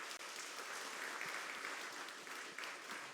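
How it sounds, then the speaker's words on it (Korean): A church congregation at a Sunday worship service applauds to welcome two visiting students, soft and distant, a continuous crackle of many hands at low volume. "우리 박수로 환영해 주시겠습니다"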